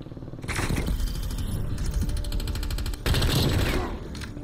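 Rapid bursts of LC10 submachine gun fire in a Call of Duty: Cold War free-for-all match, loud and sustained for several seconds, with a sharper, denser volley near the end and no talking.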